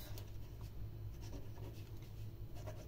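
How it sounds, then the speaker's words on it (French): Hand-writing a name, a steady soft scratching of a pen or stylus over a surface, continuous and close, with a low hum underneath and no talking. "tu vas venir ici écrire le nom de l'être aimé"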